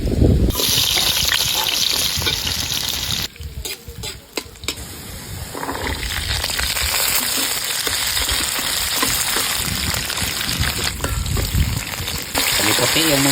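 Sliced eggplant frying in hot cooking oil gives a steady, close sizzle with stirring scrapes and clinks throughout, briefly broken by a few short pauses and faint voices in the background.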